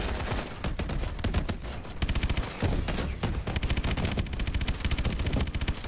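Sustained rapid automatic gunfire pounds the player in Call of Duty: Advanced Warfare, loud, close and continuous bursts of dense shots with no pauses.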